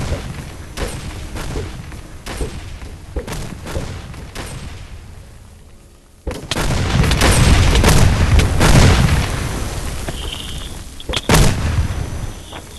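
Bombs exploding in a modded video game, a dense run of booming blasts and crackling bursts, quieter at first and then loud and continuous from about halfway, with sharp bangs near the end.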